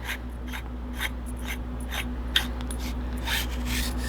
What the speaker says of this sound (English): You're going to be unscrewing it right here, about the center area, which is just below the buttons.